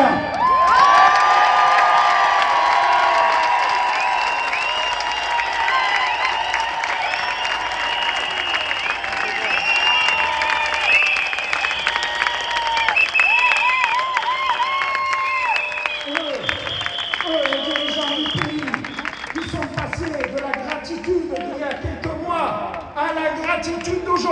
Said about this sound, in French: Et je vous demande de les applaudir encore pour que derrière les vitres du ministère d'État, les vitres du gouvernement, ils entendent la clameur de votre soutien